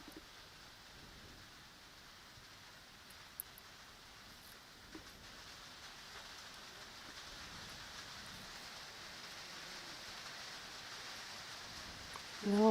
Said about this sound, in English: We can hear the rain in the background again. Can tell you, it is bucketing down still